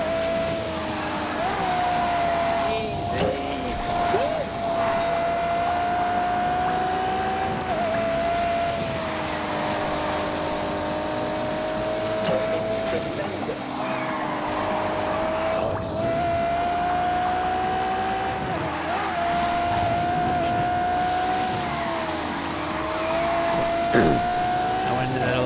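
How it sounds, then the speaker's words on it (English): Engine note of a car in The Grand Tour Game on PS4 drones steadily throughout, a sustained tone rising and dipping with gear changes and throttle lifts, with a few sharp transients over the continuous exhaust roar. "This car has, like, in my opinion, the best exhaust note of any car."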